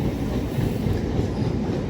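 A superfast express train runs on rails with a continuous low rumble and rhythmic wheel clatter, steady and loud throughout.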